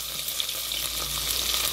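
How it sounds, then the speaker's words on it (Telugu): Thinly sliced onions and curry leaves frying in hot oil in a pan, a continuous close hiss and crackle of sizzling with no voices. "ఉల్లిపాయలు అయితే లైట్గా ఫ్రై అవ్వాలి"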